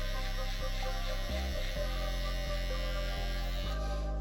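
Hair clipper for shaving to zero running steadily at a barbershop, a loud continuous electric buzz with a slight dip and wobble in pitch partway through, alone without voices.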